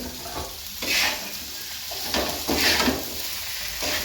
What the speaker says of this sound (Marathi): तर आता आपण बटाटे टाकायचे. बटाटे टाकून घेतले